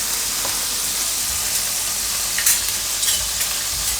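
Paneer and broccoli roasting in a pan give a loud, constant hissing sizzle, with a few brief stirring scrapes toward the end.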